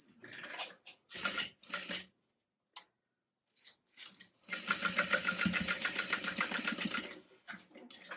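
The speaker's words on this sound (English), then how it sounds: "I'm going to sew using about a 1/2 inch seam allowance." A sewing machine stitches the zipper and lining of a bowler bag at a half-inch seam allowance, running in short stop-start bursts, then a longer steady stretch, close and clear.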